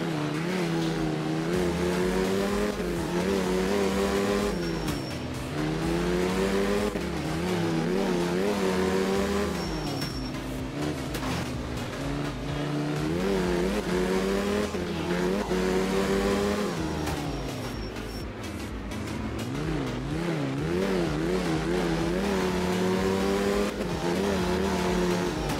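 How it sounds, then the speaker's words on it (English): A logging truck engine drones and revs in the rally racing game Art of Rally on a wet Germany stage, a continuous loud motor note rising and falling with gear changes. "I enjoyed my time in the logging truck."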